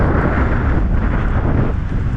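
Heavy wind roars during a snowstorm in Southern California mountains, a loud, constant rumbling buffet battering the microphone without pause.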